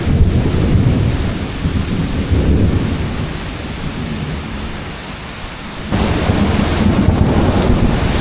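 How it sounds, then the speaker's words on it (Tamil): Heavy rain pours steadily in the Amazon rainforest in Brazil, with rumbling thunder rolling through it and a loud surge near the end. The sound is close and dense, with no voices. "இடி சும்மா அடிச்சுக்கிட்டே இருக்குது. இடியெல்லாம் பயங்கரமாக இருக்குங்க."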